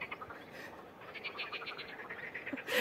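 A chorus of frogs croaks in repeated pulsing calls, close and fairly loud, with a brief bird-like chirp near the end and no talking.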